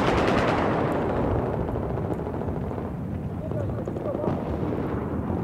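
Dense, continuous gunfire and explosive blasts from grenades in the PS4 shooter Battlefield 4, loud and overlapping throughout with a rumbling battlefield backdrop and a voice faintly mixed in.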